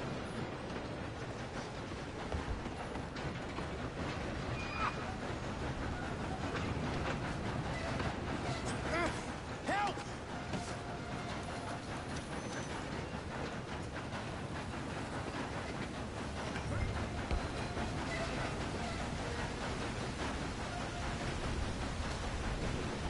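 A moving train in Red Dead Redemption 2 rolls on with a dense, steady rumble and hiss throughout, with occasional faint clanks.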